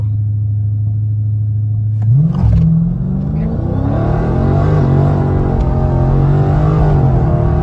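A Dodge 392 Scat Pack engine idles low, then roars as it accelerates hard, the pitch climbing with a gritty rumble that stays loud through the rest.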